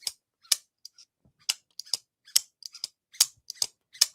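A Vosteed Psyop folding knife snaps open and shut again and again, a quick series of sharp metallic clicks and zips with short pauses between them, close and crisp.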